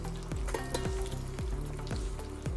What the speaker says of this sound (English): So we're just gonna go in with our vegetables. We wanna saute those.